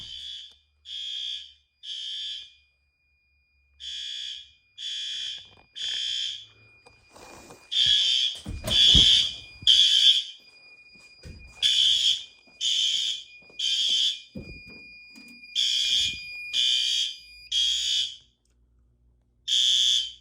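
A loud fire alarm sounds in repeated short high-pitched bursts, in groups with brief gaps, while a steady tone and some clattering noise run beneath, during routine fire alarm testing.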